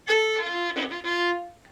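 A fiddle plays a short phrase of the Ha'penny Reel with quick bowed triplet figures: a rapid flurry of notes followed by a held tone, close and clear.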